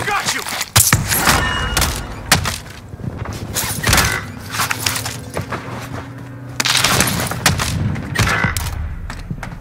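Heavy gunfire in Warzone, including possible shotgun blasts, with close and loud bursts and scattered shots throughout, mixed with mechanical clunks and thuds while players talk over it.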